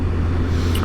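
Deep rumbling drone from a 2020 Triumph Speed Triple RS motorcycle engine, steady and loud close by for a brief moment, with no voices.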